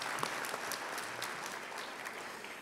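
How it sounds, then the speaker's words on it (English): Brief, faint applause from an audience for the Coastal Alabama ambassadors, a steady wash of distant clapping filling a large room. "So let's give them applause."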